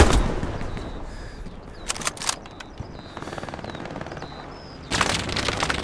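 Machine gun fire in the World War II shooter Hell Let Loose on the Eastern Front, with loud rapid bursts of automatic shots, separate cracks, and a sustained burst at the end amid battlefield noise.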